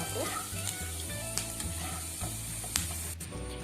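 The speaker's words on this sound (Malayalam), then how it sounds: "ഇഞ്ചി നല്ലോണം ഫ്രൈ ആയിട്ടുണ്ട്" Ginger frying in oil in a pan for Kerala-style beef pickle, a faint, steady sizzling hiss with a few light clicks from stirring.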